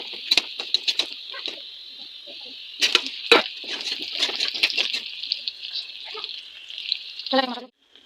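Onions frying in a curry pan on the stove give a steady, close hiss and sizzle with sharp crackles and stirring clatter throughout, ending briefly in a short voice before cutting off.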